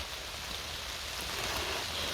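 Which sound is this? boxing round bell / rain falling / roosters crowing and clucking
rain falling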